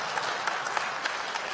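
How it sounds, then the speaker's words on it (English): A church congregation breaks into a burst of applause, a hand clap of praise to God during a sermon, with dense, steady clapping filling the space and a few sharper claps standing out. "Give a hand clap of praise to God."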